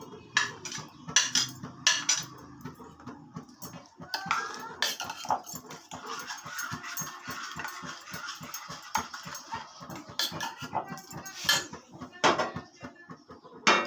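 A utensil clinks rhythmically against a bowl as chopped onion, ginger, garlic, tomato and green chilli are mixed into a batter, a quick steady series of close taps and scrapes.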